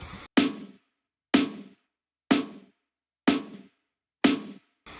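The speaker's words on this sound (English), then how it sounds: "And then this is the snare." A snare drum struck five times at an even pace about one second apart, each crisp hit ringing briefly and decaying to silence before the next, heard alone and up close.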